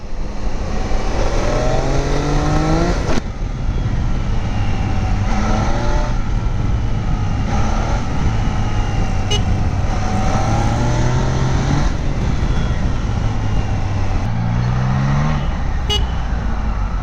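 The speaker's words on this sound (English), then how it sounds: "with a nice smooth triple cylinder engine" A new 2025 Triumph Daytona triple-cylinder motorcycle engine revs repeatedly, rising and falling in pitch with a smooth, throaty drone, loud and close throughout.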